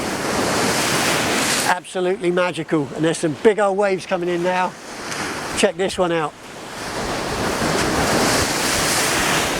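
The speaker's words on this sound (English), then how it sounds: "there's some big old waves coming in now" Big ocean waves break on coastal rocks in a loud, continuous roar with wind noise, while someone talks briefly over the surf in the middle.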